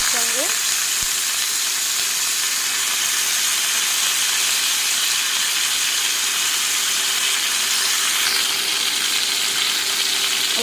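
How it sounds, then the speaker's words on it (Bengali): Drumstick pieces and potato go into hot oil tempered with reddened panch phoron, setting off a loud, steady, unbroken sizzle that continues evenly throughout. "পাঁচফোড়নটা লাল করে বেঁধে নিলাম এখন দিয়ে দিচ্ছি সজনার ডাটা আলু"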